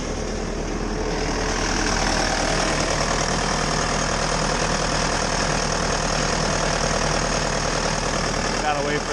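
A Bobcat engine idles steadily and loudly close by, with a constant mechanical drone and faint knocking throughout while it waits for the clutch to engage.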